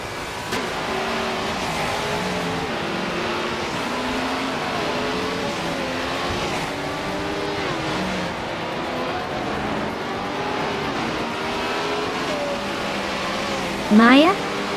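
Race cars in a video game with a 1980s field including an Alfa Romeo Tipo 33 TT12 and Lola T280s, engines droning steadily and overlapping at full throttle, a brief rising whine near the end, under continuous commentary.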